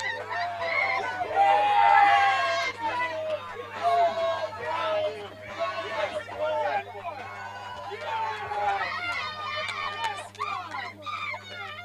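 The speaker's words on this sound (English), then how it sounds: "You can hear them in the background cheering for their team." Spectators at a 2024 Parish of Residence rugby league match cheer and call out in a continuous crowd hubbub, mid-distance, with rising swells of voices and shouts.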